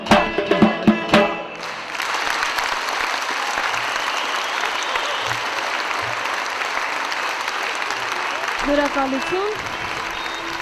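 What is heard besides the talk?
audience applause in a concert hall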